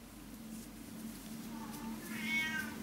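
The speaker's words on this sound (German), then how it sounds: "Mein Kater bestätigt das schreiend im Hintergrund." A male cat meows loudly and repeatedly in the background, the cries rising toward the end over a steady low hum in an indoor crochet setting.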